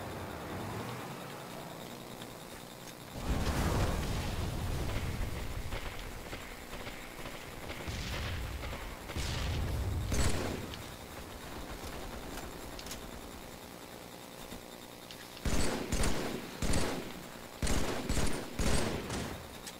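Assault rifle fire in Halo 3 multiplayer, bursts of rapid automatic shots scattered across a busy game soundscape, with a quick run of sharp rattling bursts toward the end, moderately loud.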